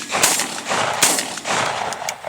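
Shotguns firing during an opening-week dove hunt outdoors, several sharp blasts spaced across a couple of seconds, fairly loud with an open-field echo.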